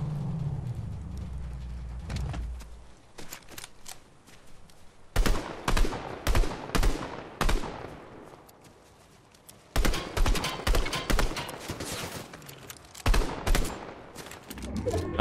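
Gunfire in a shooter video game, with bursts of rapid automatic shots in several loud clusters separated by quieter stretches, some single cracks and distant echoing shots between them.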